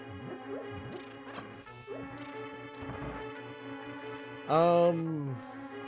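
Rocks are smashed in the Zelda: A Link to the Past video game. Short crashing hits sound over background game music, ending in a louder descending sound effect.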